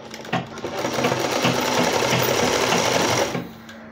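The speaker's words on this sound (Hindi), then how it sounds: "पकड़ने के बाद ये सिलाई शुरू हो गई हमारी।" A sewing machine stitches cloth for a homemade newborn langot diaper, running in one loud, steady, close whirring burst for about three seconds before stopping, with no talking.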